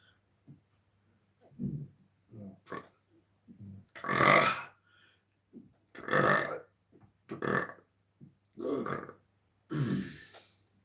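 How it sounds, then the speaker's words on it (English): A person burps repeatedly in a quiet room, about eight loud, drawn-out eructations in an uneven rhythm, with softer throat sounds and breaths between them. "So when I burp"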